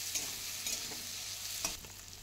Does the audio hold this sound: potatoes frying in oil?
yes